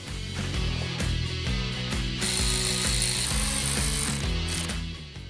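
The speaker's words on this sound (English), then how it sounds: "take your ratchet, make sure all the bolts are tight" A ratchet tightens 13 mm bolts on the 3.6L engine of a Jeep JK, making loud, close, rapid pawl clicking that runs continuously in quick rhythmic bursts.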